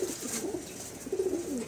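Pigeons in a loft give soft, low cooing calls, two or three rolling coos close by over a faint background hiss.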